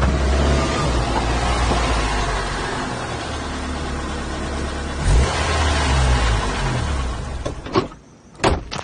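A car rolls up along a road, its engine and tyre rumble steady and close for several seconds before it comes to a stop with a few sharp thumps at the end.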